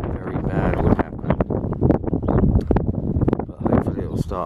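Wind gusts buffet the microphone while a prototype DC-motor twin-rotor wind turbine is tested outdoors, giving a loud, continuous rumbling roar with rapid flutters throughout.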